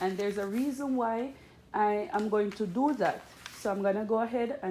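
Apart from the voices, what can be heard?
No everyday noises stand out.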